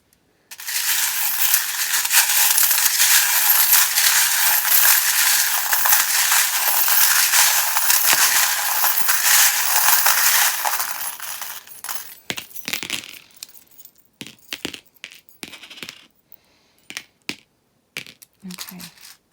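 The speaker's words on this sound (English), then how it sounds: "the attraction charm fell out very quickly while I was shuffling" Small tarot-reading charms rattle and clink together continuously as they are shuffled, then scattered clicks and taps follow as pieces settle, with no talking.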